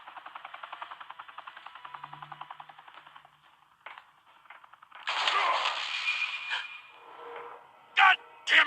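Gunfire in a Batman video game: a rapid run of shots opens the clip, then louder blasts and sharp bursts follow over game sound effects, and a voice briefly speaks through a radio-like channel.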